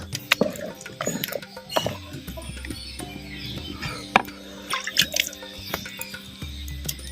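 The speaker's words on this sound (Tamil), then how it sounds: "தண்ணி எதுவும் பற்றலைன்னா இப்படி தொளிச்சுக்குங்க இப்படி தொளிச்சு வந்து சேர்த்துக்கலாம்" Water sprinkled by hand into ragi kali cooking in a clay pot, heard as irregular small drips and splashes over a low simmering background.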